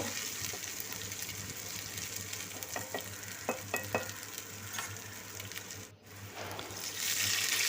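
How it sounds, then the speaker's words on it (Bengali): Sliced onions frying in hot oil with whole cinnamon and black cardamom for an okra do pyaza, giving a steady close hiss of sizzling broken by a few sharp scrapes and taps of stirring, with the frying swelling louder near the end and no voices. "দারচিনি আর বড় এলাচ দিয়ে একটু ভেজে নেব পেঁয়াজগুলো নরম হওয়া পর্যন্ত"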